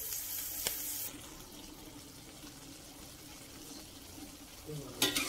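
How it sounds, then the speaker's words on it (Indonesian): Water for cooking chicken liver and gizzards boils in a pot, a soft continuous bubbling hiss near the microphone, with a brief clatter near the end. "Ini airnya sudah mendidih."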